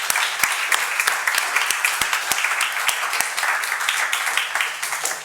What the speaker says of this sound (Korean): 이렇게 믿는 자들은 박수로 하나님 앞에 나아갑시다.